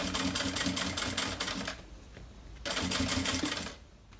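A sewing machine stitches the lining of an insulated thermal bag, running in two steady, rapid bursts with a brief pause between them.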